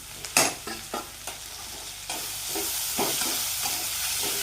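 Onion and a large chopped tomato sautéed in a pan: a few sharp spatula knocks and scrapes at first, then a steady loud sizzle with rhythmic stirring, close up and without speech.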